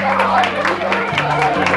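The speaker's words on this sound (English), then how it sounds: "Have a nice round of applause for them also, ladies and gentlemen." Guests at a dance-floor event give a brief round of applause, an even wash of clapping over steady low musical tones that shift pitch partway through.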